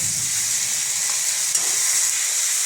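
A ground paste of green chilli, ginger and cumin fries in hot oil for a Bengali fish curry, a steady, loud, close hissing sizzle with a faint stirring tap, and no voices.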